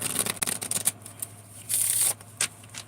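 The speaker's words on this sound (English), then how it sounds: "Let's give it a couple more shuffles." A crisp new tarot deck is shuffled by hand: quick riffling bursts of papery flicks, a short pause, then a longer sustained riffle and a final brief snap, close and fairly loud.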